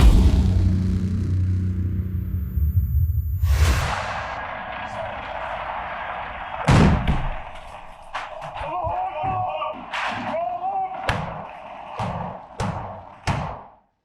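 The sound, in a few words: gunfire bursts in battle footage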